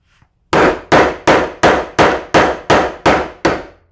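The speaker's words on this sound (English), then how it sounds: "we'll hammer it down with a brass mallet" A brass mallet drives a punch through a coin in a disc cutter to make a coin ring: nine loud, sharp metallic strikes land in an even rhythm, each ringing briefly before the next.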